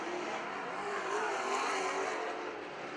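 Wissota Super Stock race cars race at St. Croix Speedway, a loud continuous engine roar from several cars that swells slightly mid-clip and eases near the end.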